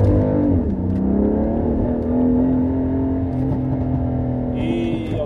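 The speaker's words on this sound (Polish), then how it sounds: "I od razu strzał z wydechu." A BMW M4 with a 550 hp engine revs hard, its tone climbing and holding in a loud, close roar, with a sharp exhaust pop breaking through near the end.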